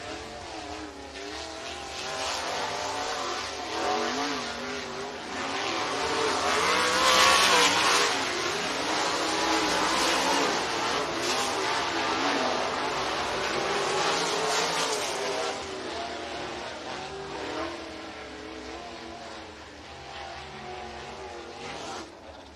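Heat-race cars at Southern Raceway in Milton, Florida roar around the speedway at the green flag, a dense, continuous wash of engines that swells and fades as the pack passes at moderate distance.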